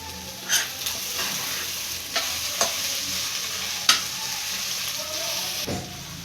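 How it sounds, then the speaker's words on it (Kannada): Sambar ingredients and potato fry in a pan with a soft steady sizzle, while occasional sharp scrapes and knocks from a stirring spoon sound close by. Nobody speaks. "ಈಗ ಇದನ್ನು ಸ್ವಲ್ಪ ಫ್ರೈ ಮಾಡ್ಕೊಳ್ಬೇಕು"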